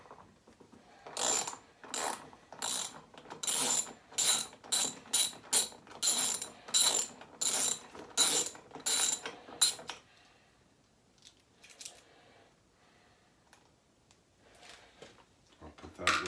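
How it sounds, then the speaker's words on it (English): Ratchet with a 13 mm socket loosening a lawn mower wheel on a Yardworks mower, a rapid clicking that comes in repeated bursts for about ten seconds, then quiet with faint handling noises. "we've got 13 mil socket. We're just going to take the wheel off."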